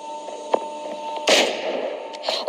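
A gunshot rings out in the battle royale game PUBG: one sharp, loud crack with a short tail, plus fainter pops before it and after it over steady background sound.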